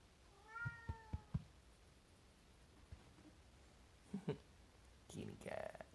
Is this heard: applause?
no